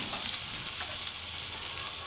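Chilli and garlic fry in hot oil over a lowered gas flame, giving a steady close sizzle and crackle that holds without pause and with no voices.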